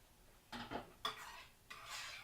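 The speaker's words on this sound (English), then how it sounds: "I'm going to stir that" Marinara sauce being stirred in a pan, with a few soft scraping, clinking strokes of a utensil against the pan, close and moderately quiet in short bursts.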